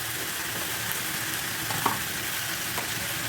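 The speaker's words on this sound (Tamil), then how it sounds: "இது வதங்கட்டும்." Chicken curry ingredients sauté in a pan, giving a steady close sizzle and crackle of frying with one small clink partway through and no talking.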